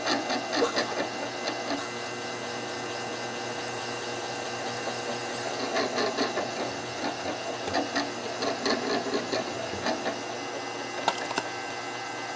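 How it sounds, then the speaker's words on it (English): Rhythmic mechanical whirring of a 1/4 inch reamer turning through a hole in a workpiece, a steady motor hum with repeating pulses and occasional clicks, no voices. "got a 1/4 inch reamer, and let's get this guy going"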